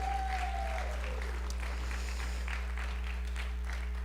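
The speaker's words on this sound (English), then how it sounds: "give a round of applause to our LA Family Church bands" An audience at a church service applauds the band, a steady wash of clapping heard at a distance under a low electrical hum, with a short fading tone at the start.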